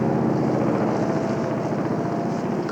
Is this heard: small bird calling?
no